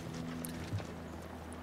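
Horse hooves clip-clopping in a Wild West style town in the video game The Last of Us Part 2, a short, quiet stretch of steady hoof clopping over a low background hum.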